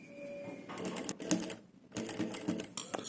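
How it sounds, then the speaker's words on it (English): A sewing machine stitches a quarter-inch seam on fabric in two short quiet bursts of rapid mechanical whirring and clicking, separated by a brief pause, close and faint. "Let me do a 1/4 inch stitch again."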